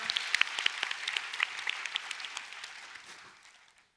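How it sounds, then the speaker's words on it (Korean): An audience at a public science lecture at Seoul National University's College of Natural Sciences applauds to welcome a speaker, with steady, moderately distant clapping that thins and fades away over a few seconds. "박수로 한번 맞아주시죠"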